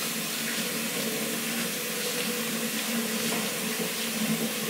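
Water runs steadily from a kitchen tap during home pizza-making, a continuous close hiss and splash that holds for several seconds with no talking.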